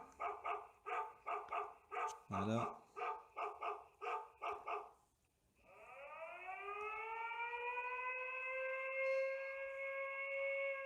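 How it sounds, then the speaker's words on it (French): A Xiaomi alarm hub plays a run of regular electronic dog barks repeating rhythmically, then a siren wail rises and holds steady, loud and close; a voice speaks briefly. "sonnerie du chien"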